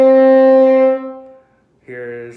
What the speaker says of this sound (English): So I'll demonstrate just open horn.